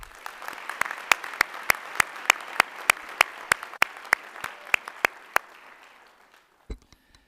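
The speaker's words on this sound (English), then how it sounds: "hope we can give them a round of applause too" Audience applause at a university honors convocation, starting as a dense, fairly loud wash of many hands with sharp individual claps standing out, then thinning and fading out over several seconds before a brief knock at the end.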